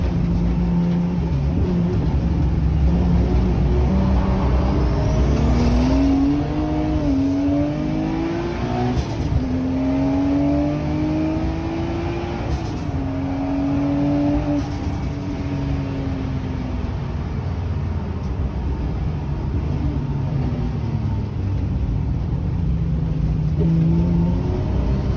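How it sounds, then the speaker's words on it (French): A Porsche 930 Turbo engine running steadily and loud throughout, its tone rising and falling with a few revs, with no talk over it. "Ici, on a une vraie Porsche 930 Turbo."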